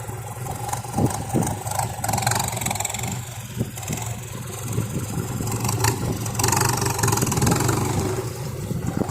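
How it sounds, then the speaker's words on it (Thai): A tractor engine idles nearby, with a deep continuous rumble and some irregular clattering over it; no one speaks. "รถไถของเรามาแล้วครับ"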